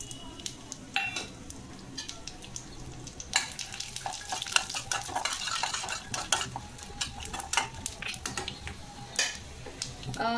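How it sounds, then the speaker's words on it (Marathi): Cashews, almonds and charoli frying in ghee in a pan, with a steady crackling sizzle and frequent clinks of a spoon stirring against the metal, close up and without talk. "हे जे काजू बदाम चारोळ्या आहेत त्या तळून घ्यायच्या."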